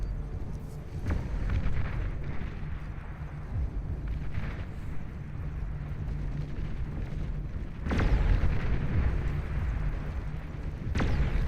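Missiles explode in a real-time strategy game match, heavy rumbling booms with two sharp louder blasts over a continuous low roar of battle noise.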